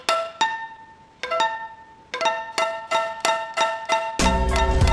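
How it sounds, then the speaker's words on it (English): A bass guitar played above the nut gives high, bell-like chiming plucks with clear ringing overtones. Single notes come first, then a quickening run of repeated strikes, ending in a denser, noisier strum. No voice is heard. "if you play above the nut, the bass sounds like this."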